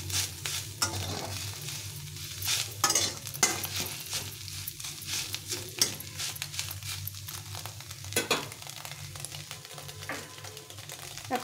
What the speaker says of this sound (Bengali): ছানাটাকে একটু ঘি দিয়ে এগুলো ভেজে নিলাম।